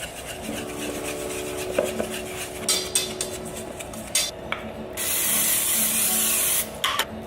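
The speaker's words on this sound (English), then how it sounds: "And you spray the top with oil as well." A short hiss of cooking oil sprayed onto batter bursts out near the end, steady for about two seconds, after scattered scraping and clinking of kitchen utensils.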